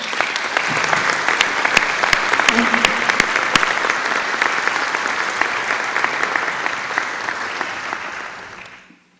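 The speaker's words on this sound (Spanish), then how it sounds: "Pues un aplauso a los representantes de todos estos estados." A large audience at a Mexican government launch event applauds state representatives, with loud, steady clapping sustained for about eight seconds before fading out abruptly.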